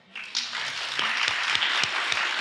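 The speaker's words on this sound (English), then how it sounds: "we ought to clap about that." A town hall audience with the state attorney general breaks into clapping, a moderate crowd of hands rising quickly into a steady, slightly uneven patter of claps.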